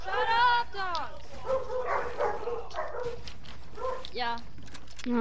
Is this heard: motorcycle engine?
no